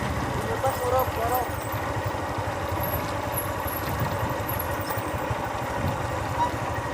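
A motorcycle engine labours as its wheel slips on a steep hill road, a close, rough low rumble throbbing steadily underneath, with someone talking over it.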